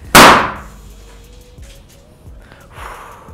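A balloon bursts with a single loud, sharp bang right at the start, decaying quickly into a quiet room with faint rustling and a brief murmur afterward.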